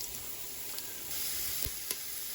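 Food for egg flower soup fries in a pan with a soft, steady sizzle and occasional faint pops, heard close but quietly and with no talk.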